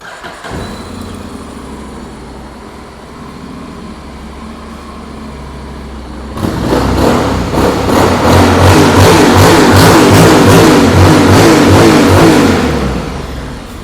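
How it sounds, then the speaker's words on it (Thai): A 2018 Honda X-ADV750 motorcycle engine turns over and catches, then revs repeatedly in strong pulses close by, loud and steady before easing off at the end. "เดี๋ยวลองฟังเสียงเครื่องยนต์กันดูครับ"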